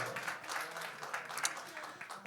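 Faint applause rises from a church congregation at a Korean Christian conference gathering. The clapping is steady and scattered and sounds distant and soft.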